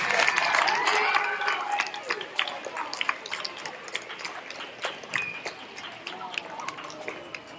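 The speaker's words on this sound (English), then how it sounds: "One more round of applause for our Citizenship Award winners." An audience at a sixth-grade awards ceremony applauds its Citizenship Award winners, the clapping loudest at the start and then thinning into scattered claps with a murmur of voices.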